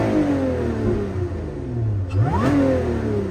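A manual Lotus Emira sports car engine revs loudly up and down, with rising and falling pitch sweeps and a sharp blip of the throttle near the end, heard from inside the car.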